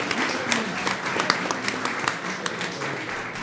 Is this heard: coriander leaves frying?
no